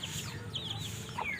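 Chicks and chickens on a rural Philippine farm cheep and cluck in a busy, overlapping chorus of short high calls, close by with no talking.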